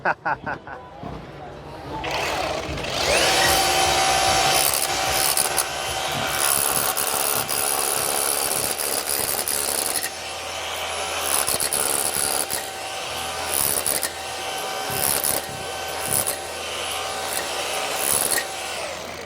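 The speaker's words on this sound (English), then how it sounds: "while it is a scraper, if I do have tile there, it will pop the tile up very easy because it gets underneath" A Bosch power scraper grinds across a floor, a loud buzzing rasp that starts after a couple of seconds and carries on with short breaks, with people talking over it.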